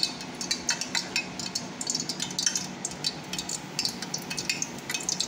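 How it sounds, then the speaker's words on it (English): Akara bean cakes fry in a pan of oil with a soft, continuous sizzle, broken by light scraping and clinks of a utensil stirring at close range. "now we want to start frying the akara"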